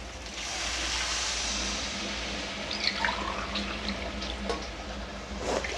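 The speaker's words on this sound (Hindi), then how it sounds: "अब इसमें हम डाल देते हैं ग्रेवी के लिए पानी" Water is poured from a glass into a cooking pan for lentil pakora curry gravy, a steady close splashing rush that runs unbroken the whole time, with a few faint clinks on top.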